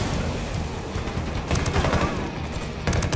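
Sustained, rapid automatic gunfire from a firefight in the video game Ghost Recon Wildlands, loud and dense, with heavier bursts of shots crowding together toward the end.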